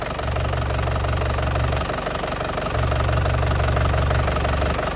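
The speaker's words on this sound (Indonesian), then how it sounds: "Tadi kan mesin udah panas ya, kita hidupin." A warmed-up 2010 Isuzu Panther Grand Touring engine idles steadily up close, with a low, even rumble and a slight knocking pulse throughout, and no one speaking.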